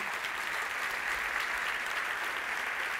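A church congregation during a Portuguese-language service applauds in a steady, dense wash of clapping that stays even and loud throughout.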